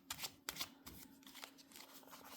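Tarot cards being shuffled close up, with a few quick riffling bursts followed by softer sliding and tapping of the deck, under a faint background hum and with no talk.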